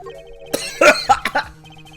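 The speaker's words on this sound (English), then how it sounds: "Cough, cough, cough." A voice actor coughs several times in quick succession, close and loud, over a soft steady game music tone.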